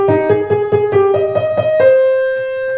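Orchestral strings from Beethoven's Symphony No. 5, first movement, layering the short repeated-note motive across second violins, violas and first violins in a quick rhythmic pattern, ending on a held note.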